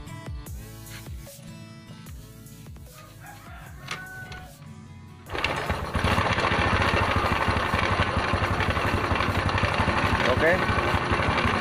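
A Honda Revo Absolute motorcycle with a rough-sounding engine starts partway through and then runs at a loud, steady idle. Talk and a crowing rooster come before it.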